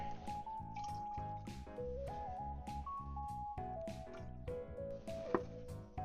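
Distilled water is poured into a container, giving a close, quiet run of trickling and dripping sounds with a shifting pitch as it fills.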